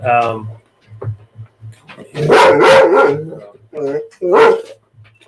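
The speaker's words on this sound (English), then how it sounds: "excuse me, that's my dog." A dog barks indoors in a few loud, close bursts, with short yips between them, as someone talks nearby.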